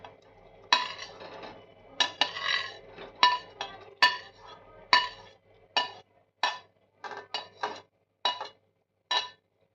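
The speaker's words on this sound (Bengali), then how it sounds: "সমস্ত সবজি আর পনিরগুলোকে ভালোভাবে নাড়াচাড়া করে নেব।" Fried vegetables and paneer being stirred in a pan for paneer yakhni: a series of sharp metallic clinks and scrapes of a spoon against the pan, irregular and close, with short quiet gaps between strokes.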